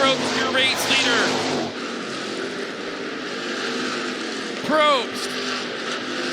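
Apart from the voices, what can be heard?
hobby stock race cars racing at Clay County Speedway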